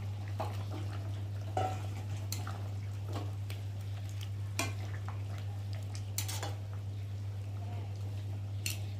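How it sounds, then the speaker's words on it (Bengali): Fried fish added to a cauliflower and potato curry simmering in a pan, soft bubbling under a steady hum, with scattered clinks and scrapes of a utensil against the pot. "আর এখন ভেজে রাখা মাছগুলোকে দিয়ে আর একটু ঝোলের মধ্যে ভালো করে ফুটিয়ে নেব"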